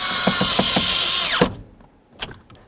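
A power drill runs steadily while driving screws into a Chevy S-10 steering column, then winds down with a falling whine and stops, followed by a brief metallic clunk; close and loud, no talking.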